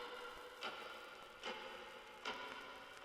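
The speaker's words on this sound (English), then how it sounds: "Then we have a clock ticking in the intro and some vinyl crackle." A clock ticks alone in a music intro, four evenly spaced soft ticks bathed in heavy reverb over a faint crackling vinyl bed, quiet and slow.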